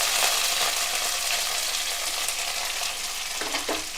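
Capsicum and curry leaves sizzle and fry in oil in an iron kadai, a steady close crackle with a few stirring scrapes near the end.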